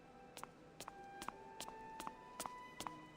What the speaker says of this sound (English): A burst of hurried footsteps echoes through the square, getting louder and louder.